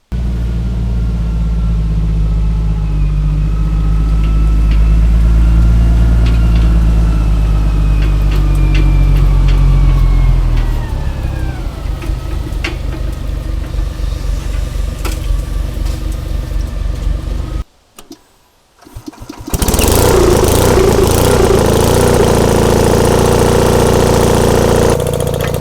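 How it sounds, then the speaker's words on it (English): Engine-driven bug welder warming up for stick welding a sawmill carriage extension, a loud deep idle rumble that drops to a steadier running drone, cuts out briefly, then surges back louder as it throttles up. "We got the welder warmed up. I'll go ahead and throttle her up and weld this all in."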